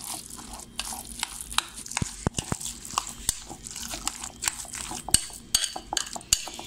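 Meatballs being stirred in a pot for albóndigas en caldo with vegetables: scattered close clinks and scrapes of a utensil against the pot, irregular taps over a soft sizzling bed, no talk.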